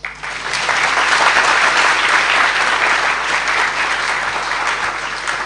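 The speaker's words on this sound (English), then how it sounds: "And all the cowherd friends, they did what? They clapped." A crowd claps together in a dense, steady round of applause lasting about five seconds, loud and close, with no voices over it.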